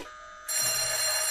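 A phone rings inside a Nancy Drew mystery game: after a short quiet lead-in, a loud steady electronic ringing sets in and holds, close and alone.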